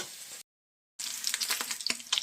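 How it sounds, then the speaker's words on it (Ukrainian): Pork cracklings made from fresh salo sizzle in a pan for banosh, a close, crackling fry with sharp pops, broken by a brief silent gap before the frying resumes. "Шкварочки наші підсмажуються"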